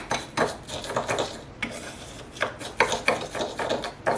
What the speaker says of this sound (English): Make sure the honey and lemon are mixed well in the sugar.